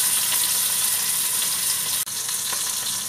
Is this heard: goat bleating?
no